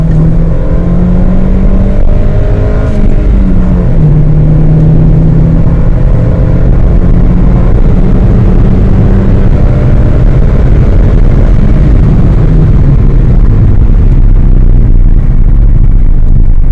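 A manual transmission car's engine revs loudly and close, a heavy droning rumble whose pitch climbs and falls as the throttle and gears change, running continuously without speech.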